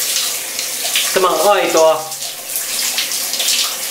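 Shower water runs steadily in a home shower with a dog, a constant close hiss throughout, with a brief voice speaking partway through.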